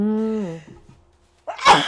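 A voice trails off, then after a pause a single sharp, explosive sneeze bursts out close by.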